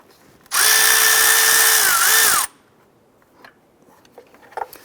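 A power tool whirs loudly and steadily for about two seconds, loosening a 12 mm bolt on the top side of the alternator of a 2009-2015 Honda Pilot, its pitch dipping briefly before it stops, followed by faint clicks.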